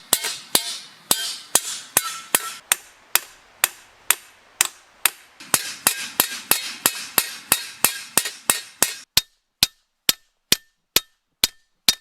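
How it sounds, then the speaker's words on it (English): A hammer peening the edge of a new scythe blade, with rapid sharp metallic strikes in a steady rhythm that thin to evenly spaced, cleaner blows near the end, close and loud with no talk. "before sharpening, the blade is often peened"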